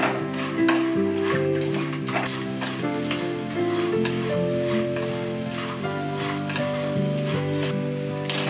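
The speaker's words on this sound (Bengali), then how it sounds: "ম্যাগি লাল করে ভাজা হয়ে গেছে।" Broken Maggi noodles fry in hot oil with a continuous sizzle and repeated stirring scrapes and taps, while steady tonal music runs underneath the whole time.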